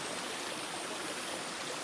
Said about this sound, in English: Basically it goes over the river.